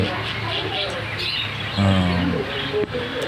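Caged birds at an exotic bird market, among them diamond doves and conures, chirp and coo softly through a busy background, with a clearer low dove-like call near the middle as people talk nearby.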